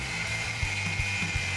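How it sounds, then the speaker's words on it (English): A power tool grinds steadily through rusted aftermarket front spring hangers welded to a Silverado Duramax truck frame, holding a continuous whine with a few brief knocks along the way, close and loud with no talking. "Cutting off the front spring hangers can be a chore."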